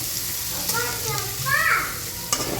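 Chopped tomato frying in a pan with ginger and garlic for a Bengali potol and potato curry, a steady close sizzle with brief stirring clatters, a voice talking faintly over it.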